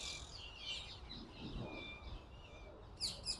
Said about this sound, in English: You can really hear all the birds just wailing out.